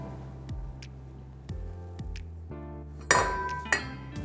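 A cheesecake pan knocks and clinks against an upturned glass during demolding, producing a handful of separate sharp metallic-glassy taps, with a brighter ringing clink near the end.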